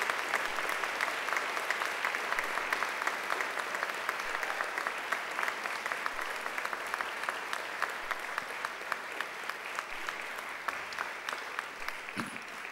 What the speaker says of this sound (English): now I invite you to give them a mighty round of applause